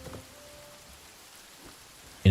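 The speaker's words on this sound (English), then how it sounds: "This is the first time we've seen it rain." Rain in the video game Hytale falls as a soft, even hiss, then a sudden loud burst cuts in at the very end.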